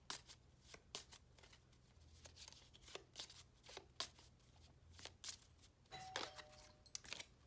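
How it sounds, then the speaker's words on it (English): A faint doorbell chime rings once near the end, amid steady rustling and shuffling of tarot cards close by. "doorbell's ringing"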